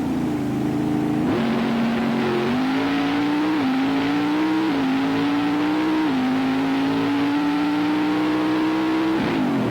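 Onboard roar of an 814 cubic inch drag racing car at the 1997 IHRA Winternationals in Darlington, a loud sustained engine drone stepping upward through several gear shifts, with no talking.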